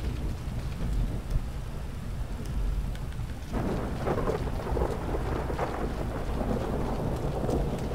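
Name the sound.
thunderstorm with rain and thunder in a video game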